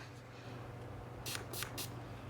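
Three quick hissing spritzes from a makeup setting spray bottle, close by, over a low steady background hum.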